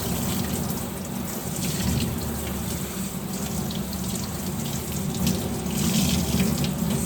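Running water rinses dye from tie-dyed fabric, a steady, loud, close gushing stream with some splashing, continuing throughout with no voices.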